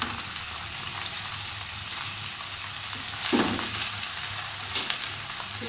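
Okra and onion fry in a pan with a constant, close crackling sizzle, punctuated by an occasional stir that briefly lifts the sound.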